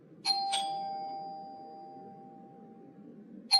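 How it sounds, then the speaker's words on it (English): A doorbell is pressed at a family house, giving a clear two-tone ding-dong chime that rings out and decays slowly, then a second press starts the chime again at the end, close and alone with no talking. "She is the one pressing the doorbell."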